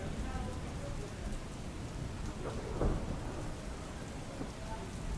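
Heavy, continuous rain pouring down over Jamnagar during a two-day downpour, with a rolling thunder rumble building around the middle, steady and moderately loud.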